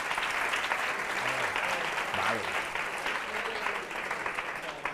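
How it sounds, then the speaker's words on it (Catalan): Steady, dense applause from a studio audience at a Catalan TV word-game show in Terrassa, filling the whole stretch at an even level, with a faint voice murmuring underneath. "No esteu aplaudint gaire, aplaudim-la també, home"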